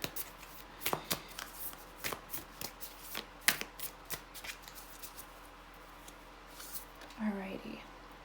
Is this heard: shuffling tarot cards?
yes